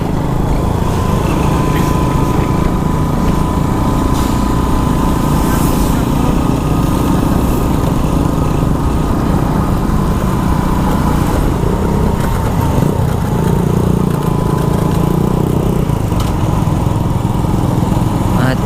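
A Suzuki Raider 150 motorcycle engine runs loud and steady close by, a constant buzzing drone throughout, with voices talking over it at times.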